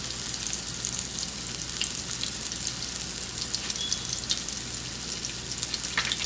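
Salmon pan-searing in a frying pan, a continuous close crackling sizzle with scattered pops and spits and no talking.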